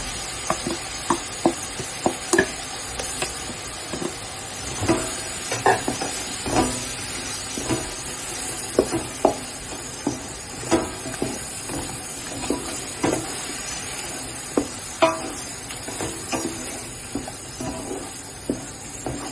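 Ground coconut sautéing in oil with green masala for Malvani mutton masala, a continuous sizzle broken by frequent clicks and scrapes of stirring in the pan, with no talking.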